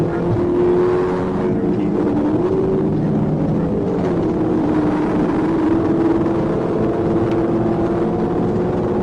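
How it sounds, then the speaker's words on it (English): Muscle cars, Challengers and a Mustang, street racing on a highway, giving a steady, loud engine roar with shifting tonal pitch that rises and settles throughout, continuous and without speech. "They start racing thinking they're alone on the highway."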